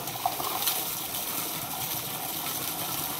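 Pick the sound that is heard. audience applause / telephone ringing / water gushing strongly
water gushing strongly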